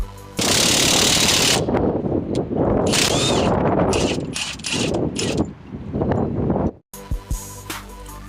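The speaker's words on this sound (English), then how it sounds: "I'll be using an impact wrench to speed things up" An impact wrench drives a ball joint press against the u-joint cup on a Jeep ZJ drive shaft, loud rattling hammering bursts up close with brief pauses, then a sudden stop followed by faint clatter.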